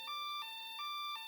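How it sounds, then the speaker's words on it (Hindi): A toy truck's electronic siren wails in a repeating two-tone pattern, switching pitch roughly every third of a second, steady and close with no talking. "हाँ, ये नया है। इसमें सायरन भी है और लाइट भी जलती है। देखो।"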